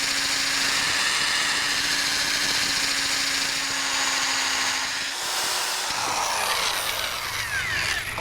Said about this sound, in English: By using the hammer drill to finish the rest of your holes while the plywood's already in place